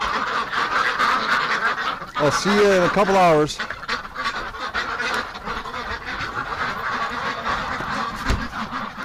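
Ducks in a freezing winter coop let out a short burst of harmonic, honking quacks midway through, close by, while a person talks nearby before and after.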